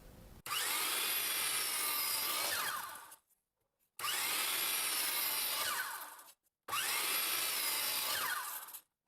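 A disc saw cuts wooden pieces for a floating shelf in three long, loud bursts of high whining, each separated by a short silent gap.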